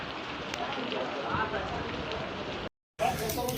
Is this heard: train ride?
no